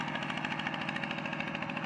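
Modified walking tractor engine running in a rice field, a steady mid-pitched chugging drone heard close and alone, fairly quiet throughout.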